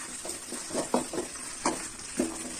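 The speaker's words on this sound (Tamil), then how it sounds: "நல்லா வதக்கிக்கோங்க" Ingredients being sautéed in a pan for a Tamil green manathakkali kuzhambu, with a soft continuous sizzle and several distinct scraping stirs of a spoon, moderately close and without talk.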